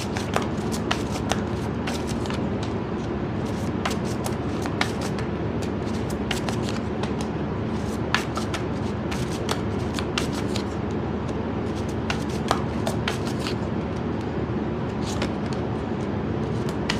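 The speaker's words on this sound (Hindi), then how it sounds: "थोड़ा सा मैं भी शफल कर रही हूँ इस वजह से." Tarot cards are shuffled continuously over a dense, rumbling background, with sharp papery snaps and flicks scattered irregularly throughout.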